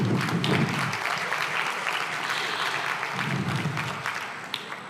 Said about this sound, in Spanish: le damos por favor un aplauso a Juliana